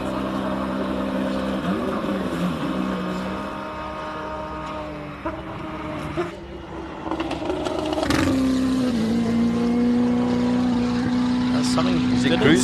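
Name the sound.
race car with Ferrari engine accelerating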